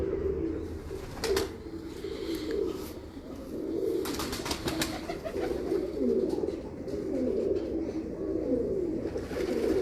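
Breeder pigeons in a cage coo softly and repeatedly at close range, low throaty calls overlapping in a steady murmur, with occasional wing flutters and faint background clicks.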